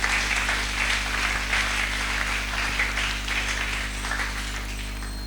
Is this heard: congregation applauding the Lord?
yes